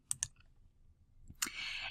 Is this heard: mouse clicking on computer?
yes